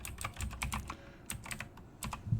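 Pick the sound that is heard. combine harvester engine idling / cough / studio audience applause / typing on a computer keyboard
typing on a computer keyboard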